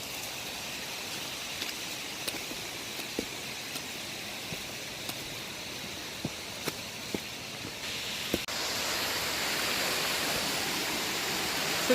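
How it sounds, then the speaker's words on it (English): Rushing water from a waterfall and a small overflowing stream along a damp hiking trail, a steady broadband roar that swells louder toward the end, with a few faint footstep clicks. "There's like practically a little river running here"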